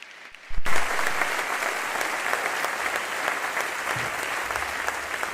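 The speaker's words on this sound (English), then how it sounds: "Please give them a round of applause." Audience applause breaks out suddenly after a brief quiet moment at an official announcement event with the Texas governor and Dell's CEO, a dense, steady clapping that holds strong to the end.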